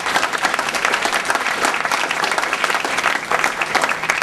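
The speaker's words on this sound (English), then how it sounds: "So let's give a round of applause for that." Loud, thick audience applause at a clean-water event in Iowa fills the room, rolling on unbroken with slight swells in intensity.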